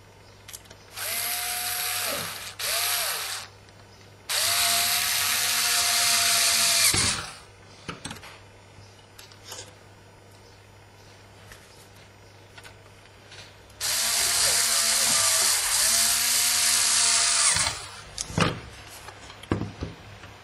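A power screwdriver drives screws into a PlayStation 2 console casing in two long, loud whirring bursts, with short clicks and quieter handling noises between them.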